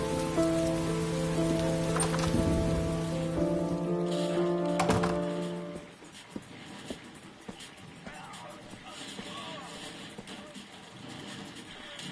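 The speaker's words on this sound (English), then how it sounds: "It's raining." Heavy rain pours steadily onto a surface, loud and close at first with a droning engine-like tone and faint voices beneath, then the hum drops away after about six seconds, leaving softer continuous patter with scattered drips.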